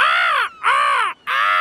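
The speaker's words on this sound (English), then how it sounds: "The cheeky seagulls are eating Grandpa's raspberries." Cartoon seagulls squawk three times in quick succession, loud harsh calls with brief gaps between them, raiding raspberries in a Peppa Pig scene.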